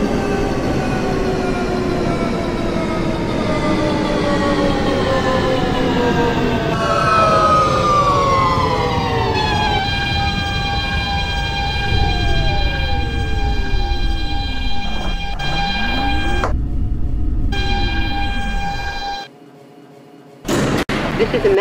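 An R160 subway train on the F line runs in the OpenBVE simulator, its motors whining and rising in pitch while the car rumbles over the rails. The tone then sweeps down and back up before the sound cuts off abruptly.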